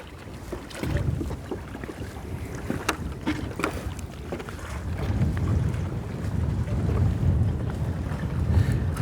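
Wind gusting over open water at Rondevlei Nature Reserve in Cape Town, heard from a small boat, with steady rushing and buffeting on the microphone that swells louder toward the end.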